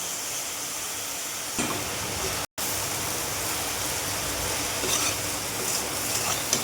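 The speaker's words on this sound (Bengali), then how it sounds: "এবার নেড়ে নেব, একটু মিক্স করে নেব।" Vegetable chowmein noodles being stirred and mixed in a hot pan, a continuous loud sizzle with faint scraping, close and steady with one brief dropout, no talk.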